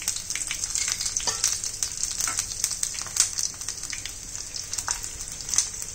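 Ginger and garlic sizzling in hot oil with cumin seeds and asafoetida, a close, steady frying hiss broken by crackles and the scrape of stirring, with no voices.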